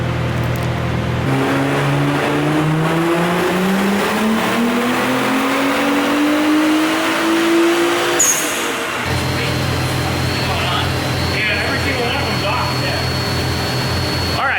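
A turbocharged car engine revving up on a dyno during a tuning run, its loud, close pitch climbing steadily for about eight seconds before a sharp cut and a whoosh of released boost, then continuing at a steady roar.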